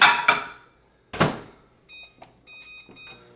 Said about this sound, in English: I'm just going to pop this into the microwave and heat it up with some cheese